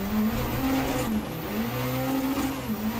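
A rally car in the EA WRC video game, heard from inside the cockpit: a steady engine drone with shifting pitch and tire noise running throughout, fairly loud with no talk.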